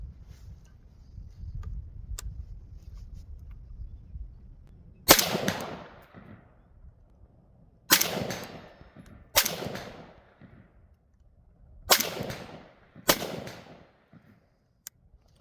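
A SIG rifle fires five rounds of 62-grain AAC full metal jacket ammunition: five loud, sharp reports at uneven intervals, each with a ringing decay, preceded by quiet low rumble and small handling clicks.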